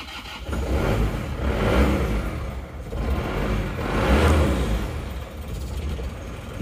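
A car engine with a turbo, one with a recurring turbo fault, runs at close range. Its low rumble rises and swells in two broad revving surges, with no talk over it.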